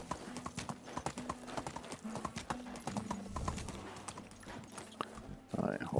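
Horse hooves clip-clop at a walking pace in a video game, with a steady rhythm of fairly faint, close hoofbeats running throughout and a brief louder burst near the end.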